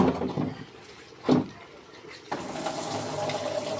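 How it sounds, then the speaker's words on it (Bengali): Water pours into a pot of jackfruit curry with spices, a close steady splashing stream beginning partway through after a few faint kitchen knocks. "একবারে পানি টানি সব দিয়ে দেবো"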